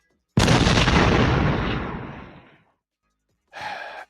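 A bomb-drop sound effect opens a true-crime podcast episode: a loud, booming blast that fades over about two seconds, then a shorter second burst after a brief silence.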